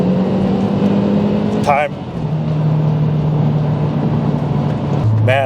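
A Stage 1 MazdaSpeed 3 pulls hard from 30 to 70, its loud engine drone climbing in pitch, dipping briefly at a gear change, then climbing again. A short spoken word cuts in near the end.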